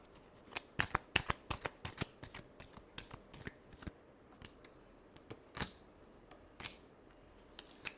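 Tarot cards are shuffled up close in a series of sharp, crisp riffles and snaps, spaced irregularly with quiet gaps between them.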